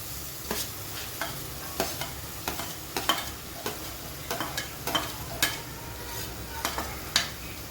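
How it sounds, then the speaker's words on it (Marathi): Chopped capsicum sizzling in a pan for Mumbai-style masala pav, a steady hiss broken by regular scraping clacks of a spatula stirring, close and moderately loud. "त्यामध्ये मी आता शिमला मिरची टाकते"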